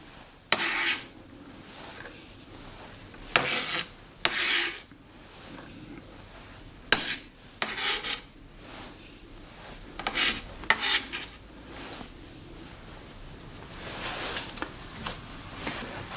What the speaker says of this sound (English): So I scored the top, and now I'm just cutting down.